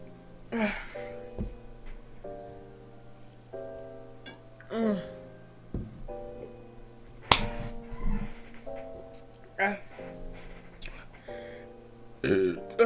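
A series of loud, close burps after chugging mango soda, about eight separate belches spread across the stretch with short pauses, some long and croaky, some short and abrupt.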